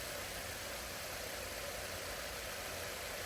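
A vibratory tumbler loaded with agates and ceramic media runs with a steady, dense broadband hiss and low rumble, continuous and unchanging throughout with no voices.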